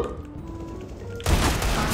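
Gunfire in Counter-Strike: Global Offensive, a quiet stretch of faint game ambience giving way to a loud, dense burst of shots that carries on steadily to the end.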